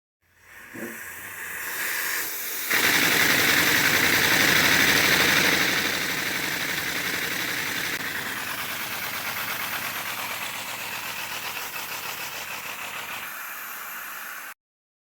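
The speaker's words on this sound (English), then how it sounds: "I only have a clip of it running on 5 cylinders." 3D-printed V10 air engine running on five cylinders under high air pressure, a continuous loud hissing rush with a rapid chattering pulse, steady and close for most of the run before cutting off abruptly.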